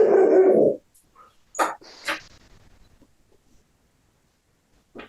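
A dog barks loudly once at the start, followed by scattered clicks, thuds and handling sounds in an otherwise quiet indoor room.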